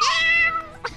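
A single drawn-out meow, probably a person's voice imitating a cat during a Fortnite game session, rising then sliding down over about half a second, followed by a short faint squeak.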